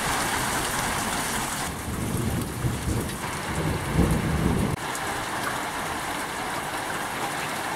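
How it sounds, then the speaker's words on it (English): Heavy rain pours steadily while deep thunder rumbles through the middle, then the downpour continues alone. "There's a thunderstorm outside."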